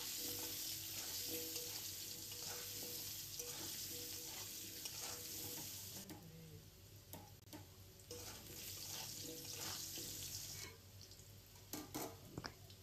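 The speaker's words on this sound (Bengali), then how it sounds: "আলু ভাজার সময় সামান্য একটু নুন দিয়ে" Potato pieces fry in hot oil seasoned with salt and turmeric, giving a steady close sizzle with occasional stirring clatter and light drips.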